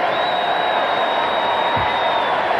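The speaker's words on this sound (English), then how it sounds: "the crowd chanting for Larry Bird" An arena crowd at a USA versus Venezuela championship basketball game chants for Larry Bird, a steady dense roar of many voices that fills the whole stretch at high volume.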